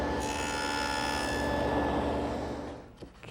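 A hand tool shapes a wooden tenon on a part for an outdoor patio table, making a continuous close rasping, rubbing sound for about three seconds before it stops.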